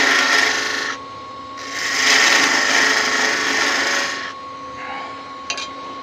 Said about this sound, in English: Got my little spindle gouge again to get in there.